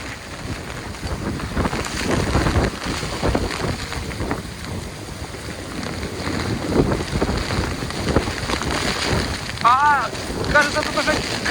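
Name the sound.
strong storm wind on Lazarevskoye seafront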